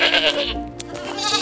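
Goats bleat in short wavering cries, close and fairly loud, with a brief click in between.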